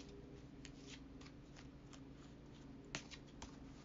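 A Shadowscapes tarot deck being shuffled, with soft riffling card sounds and a couple of sharper flicks near the end, quiet and close.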